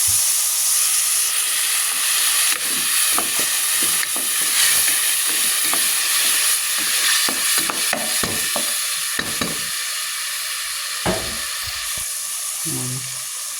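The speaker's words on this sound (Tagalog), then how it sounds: "Lagay na natin yung sabaw" Beef broth pours into a hot cooking pot for lugaw, giving a sustained hissing, steaming sizzle with intermittent scraping and clinking stirs, close and fairly loud throughout.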